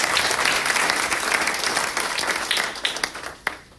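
An audience claps together in a sustained round of applause at a talk about revolution and change in Sudan, dense and steady before thinning out toward the end.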